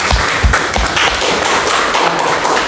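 Students in a polytechnic classroom clapping for a classmate, a loud burst of scattered hand claps with a few heavy thumps near the start, fading into a continuous patter.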